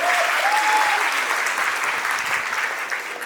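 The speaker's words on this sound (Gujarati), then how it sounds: "સરપંચ સાથે એકવાર જોરદાર તાળીઓ થઈ જાય" Applause from the audience at a community gathering, a dense, steady round of clapping that holds evenly and fades slightly toward the close, with no talk.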